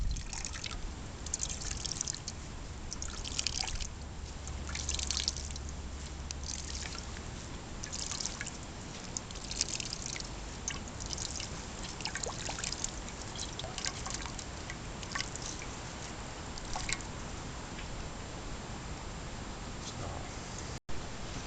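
Apple juice drips and trickles from a hand-squeezed straining bag of blended apple pulp, with quiet, irregular wet patters and splashes continuing steadily at close range.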